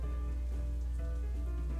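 Steady rain patters on a surface in the visual novel Katawa Shoujo, a soft continuous hiss at low volume with no voices over it.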